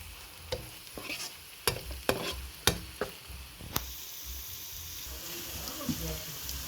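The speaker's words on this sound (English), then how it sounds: "So this is still frying." Frozen vegetables for a veg manchurian fry in a pan before onions and peppers go in: a soft, steady sizzle broken by several sharp scrapes and clacks of stirring, close and fairly quiet.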